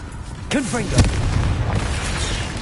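A Confringo blasting spell bursts with a loud boom in Hogwarts Legacy, a video game battle, sitting among swooshing spell effects and a steady rumbling battle din.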